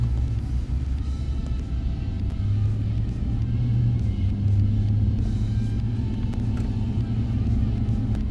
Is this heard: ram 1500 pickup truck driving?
yes